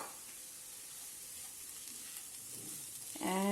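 Onions and gram flour (besan) sizzle softly in a pan over low heat, a steady faint hiss and frying crackle, with a brief clatter at the end.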